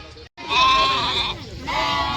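Sheep and lambs at a shepherds' overnight camp near Baramati bleat loudly and continuously, several overlapping calls close by with a brief gap early on.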